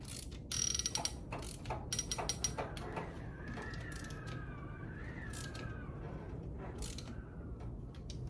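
A ratchet tightens bolts on an Ultrex trolling motor during an armature and seal rebuild, giving quick bursts of close clicking that start and stop several times over a faint background hum.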